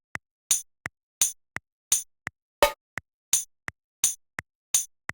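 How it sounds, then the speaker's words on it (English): A Studio One metronome ticks in a steady, even rhythm, with short crystal-like clicks alternating with brighter tambourine hits, quiet and alone with no other sounds. "the metronome sounds like this"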